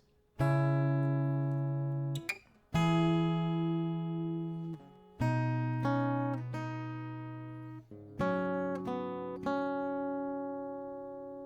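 Plucked acoustic guitar notes ring out one at a time at a slow, unhurried pace, each left to sustain before the next.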